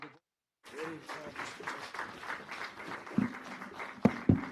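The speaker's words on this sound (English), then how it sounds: "Please give them a round of applause." Audience applause at the launch of the book "The Art of Persuasion", a steady moderate patter of clapping across the room with voices talking over it and a couple of sharp thumps near the end.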